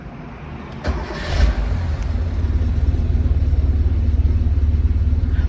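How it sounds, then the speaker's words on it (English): A 1977 Porsche 930 Turbo engine cranks briefly, catches and settles into a loud, steady, throbbing idle, close by with no talking. "So the motor sounds very good."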